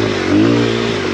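A Honda XR100 dirt bike engine revs steadily on a rough hillside trail, a loud, close buzzing drone with a brief rise in pitch partway through the short burst.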